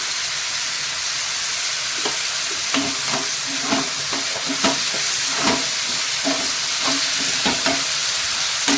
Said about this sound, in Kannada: ಫ್ರೈ ಮಾಡ್ಕೊತೀನಿ ಇದನ್ನು ಫುಲ್ಲು ನೈಸಾಗಿ ನಮಗೆ ಫುಲ್ ಮೆತ್ತಗ ಆಗುವವರೆಗೂ ನಾವಿಲ್ಲಿ ಫ್ರೈ ಮಾಡ್ಕೋಬೇಕಾಗುತ್ತೆ